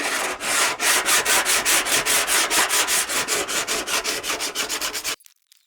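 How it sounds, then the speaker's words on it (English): Rapid back-and-forth strokes of 80 grit sandpaper scuffing body filler on a rusty front wing of an MG TF, a steady close rhythmic rasping of about twenty-five strokes that stops abruptly near the end. "I'm now going to sand this back with some 80 grit sandpaper first"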